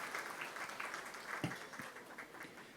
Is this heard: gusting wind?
no